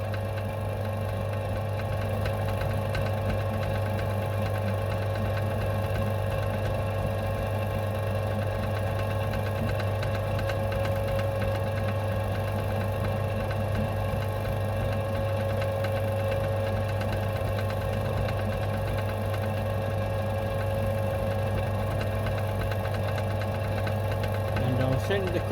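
A lathe's cutting tool machines a Class 31 diesel locomotive wheel, giving a steady continuous mechanical hum with a low drone and faint grinding texture, held at an even level throughout.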